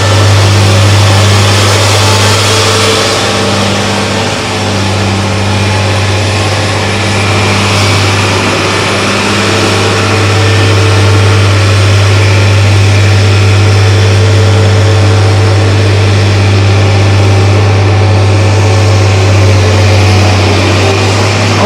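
A TF830 forwarder's engine drones loudly and steadily in low gear, a deep, constant rumble that stays close and unbroken with no talk.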